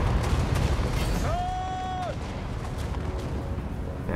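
Artillery fire in the video game Total War Warhammer: a rising whistling tone holds for about a second over a rumbling, noisy battle backdrop.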